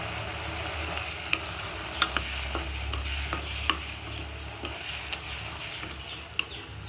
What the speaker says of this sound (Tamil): இப்படி அப்பப்போ கொஞ்சம் கொஞ்சமாக பார்த்து கிண்டிக்கிட்டே இருக்கணும்.